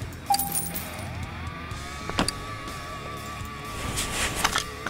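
In Car Mechanic Simulator 2018, a tie rod comes out with short metallic clinks and jangles over a steady garage hum, a few sharp taps spread across several seconds.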